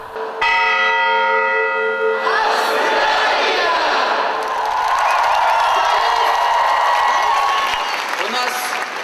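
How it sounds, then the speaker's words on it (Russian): A large ceremonial bell strikes with a long ringing tone at the World Choir Games opening ceremony in Sochi, then a big crowd breaks into loud applause and cheering that carries on to the end. "прозвучало 5 ударов колокола, которые символизируют 5 континентов Земли"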